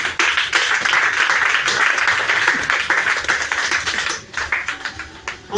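A church congregation bursts into sustained applause and clapping with cheering, loud and dense throughout, thinning briefly near the end before swelling again.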